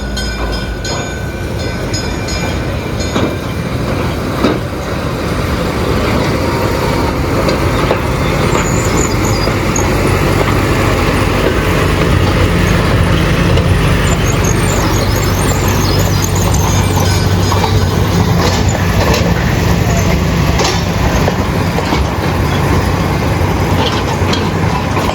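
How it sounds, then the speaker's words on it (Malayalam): The Atal Express, a toy train in Ahmedabad, rolls past close by with a loud, continuous rumble of wheels and cars, and faint squeals rise over the steady noise. "ഇപ്പോൾ പോയ ടോയ് ട്രെയിനില്ലേ, ആ ടോയ് ട്രെയിനിൻ്റെ പേര് അടൽ എക്സ്പ്രസ് എന്നാണ് കേട്ടോ."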